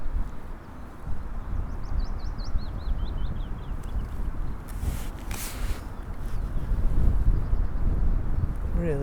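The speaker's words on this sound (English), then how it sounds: "Insane wind." Strong wind buffets the microphone beside a fishing lake in spring, a constant low roar with gusts, while faint birdsong chirps in the background.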